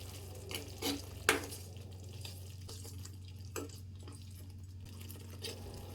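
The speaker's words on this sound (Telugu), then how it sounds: "ఎంటీఆర్ పులిహోర ప్యాకెట్ మిక్స్ని వేసుకొని కలుపుకోవాలి." A spoon stirs MTR pulihora mix into rice cooking in a pot, giving a few faint scrapes and clinks over a steady low hum, quiet and close.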